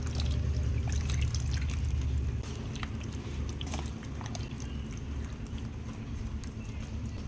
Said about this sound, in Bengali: মিক্সি ধোয়া জল, প্লেট ধোয়া জল, সবগুলো ধুয়ে যে জলটা হয়েছে সেই জলটা এর মধ্যে দিয়ে দেবো।